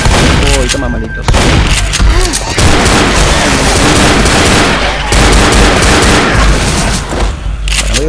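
Gunfire in the zombie shooter game Left 4 Dead, with rapid bursts and shotgun blasts booming loudly and almost without a break, broken by short gaps, over chaotic game noise.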